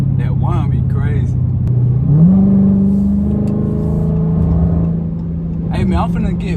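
A 500+ horsepower Dodge Scat Pack engine hums and then climbs into a rising whine that holds steady before easing, heard up close inside the car with someone talking over the start and end.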